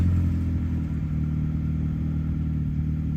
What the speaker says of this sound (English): So this is the Integra with the muffler delete,